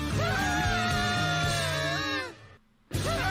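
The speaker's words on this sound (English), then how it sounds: "Stop you screaming!" A Yu-Gi-Oh! GX anime character lets out a long, loud, wavering scream over background music, breaking off abruptly near the end before the music resumes.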